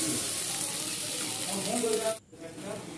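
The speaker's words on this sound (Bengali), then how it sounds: "দিয়ে ভালো করে মশলাটাকে কষাবো।" Spice masala with salt, turmeric and chili powder sautéing in a pan, a steady close sizzle and frying hiss with soft stirring scrapes, broken by a brief pause near the end before the sizzle resumes more quietly.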